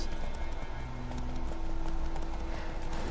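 Galloping hooves of a horse in The Witcher 3 video game pound in a fast, steady clip-clop rhythm, loud and close, with game ambience underneath.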